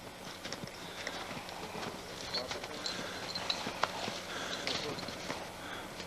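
Working logging horses' hooves clip-clop at an unhurried walking pace on a hard surface, steady and moderately close, with faint outdoor background noise.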